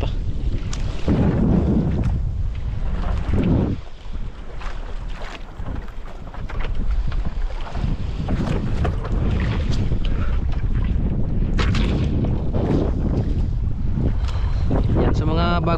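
Strong wind buffets a small fishing boat out at sea, roaring gusts hitting the microphone in loud surges with brief lulls, water sloshing underneath, and a voice speaking now and then beneath the blustery noise.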